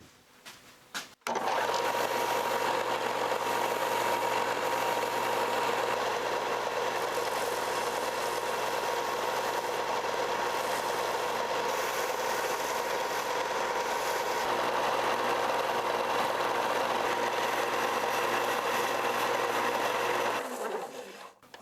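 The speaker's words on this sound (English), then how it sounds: "I'm going to go ahead and do what I always do and take it to the sander." A power sander runs with a steady, even motor whir while shaping a PVC minnow fishing lure, starting abruptly, holding a constant hum for about twenty seconds, then stopping.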